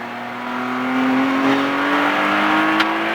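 A car engine picks up under smoothly applied throttle on a track, with a steady harmonic note climbing gradually in pitch and loudness, close and alone, with no talk over it.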